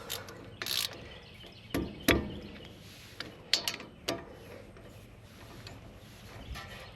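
A ratchet wrench tightens bolts on the brake caliper of a 2008 Ford F250. It gives short bursts of quick, dry clicking with brief pauses between strokes, close by and moderately quiet.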